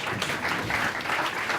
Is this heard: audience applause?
yes